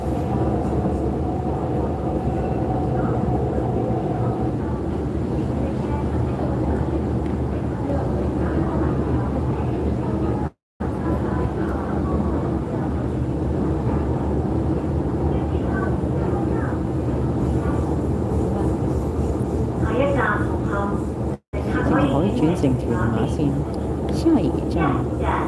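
An East Rail Line train runs toward Hung Hom station in Hong Kong, giving a steady, loud rolling rumble with wheel and carriage noise throughout, cut by two brief dropouts.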